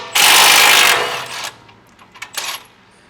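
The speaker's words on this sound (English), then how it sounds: "we're gonna go ahead and take the bolt out on the bottom of the strut, which is a 19" A 19 mm bolt is driven out of the bottom of a strut on a 2016-2023 Toyota Tacoma: a loud, close burst of roughly a second, then a few short metallic clinks and rattles as the bolt comes free.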